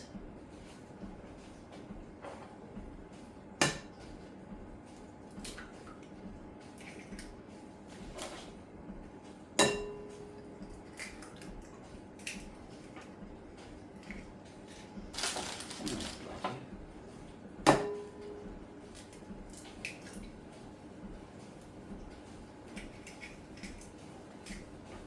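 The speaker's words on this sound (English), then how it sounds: "Now, put in my bowl 3 eggs" Three eggs cracked into a bowl while making brownies: three sharp, isolated taps spaced several seconds apart over a quiet kitchen background.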